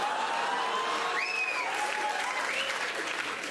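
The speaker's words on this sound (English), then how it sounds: "That was a round of applause from the French-Canadian women" Sustained applause from an audience at a Jimmy Carr stand-up comedy show, steady clapping that fills the room for the full stretch.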